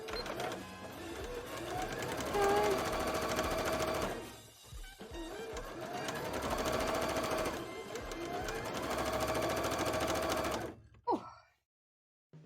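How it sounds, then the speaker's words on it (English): A sewing machine runs a top stitch on a petticoat layer for cosplay, a loud close rapid mechanical whir in two long runs split by a short pause, then it stops and a brief exclamation is heard. "let's sew that top stitch"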